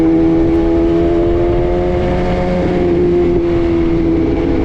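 Car driving at moderate speed on the road, a steady engine drone with an even hum and tire and road noise throughout, heard from inside, no speech.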